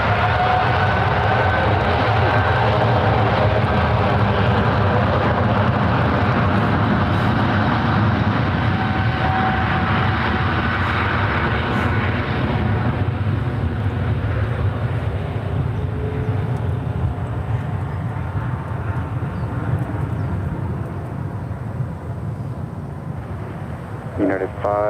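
A United airliner at San Francisco International Airport rumbles with a loud, broad jet roar that fades slowly as it moves away, while an air traffic control radio voice talks over it.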